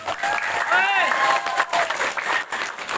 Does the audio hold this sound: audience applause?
yes